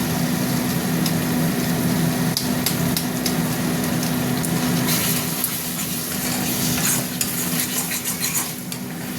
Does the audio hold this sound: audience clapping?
no